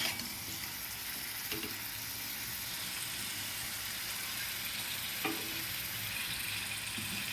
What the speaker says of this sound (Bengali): আবার একটু নাড়াচাড়া করে নেব।